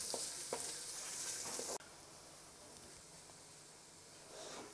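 Garlic and ginger frying in a pan with golden-brown onions, a close, steady sizzle with a few stirring scrapes early on, then a slightly softer continuous hiss.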